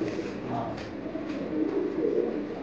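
Local desi pigeons at a fancy pigeon farm coo softly and repeatedly in a steady, murmuring chorus, close by, with no clear talking over them.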